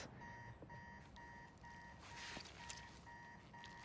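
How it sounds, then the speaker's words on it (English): An alarm in the Spider-Man 2 video game beeps in a steady repeating pattern of short electronic pulses, faint and continuous over a busy game background. "You gotta turn off the alarm, man."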